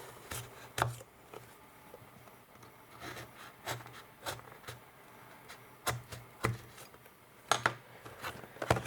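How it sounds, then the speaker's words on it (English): A knife slicing through the protective seal stickers on a Honor X7D phone box, giving short scraping and tapping strokes at irregular intervals, close and fairly quiet. "I think I will just use a knife to cut through them"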